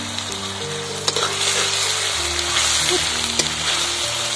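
Onion paste fries in hot oil in a pan, a loud, dense, continuous sizzle with a couple of brief clicks of a stirring spoon, close up and with no talking.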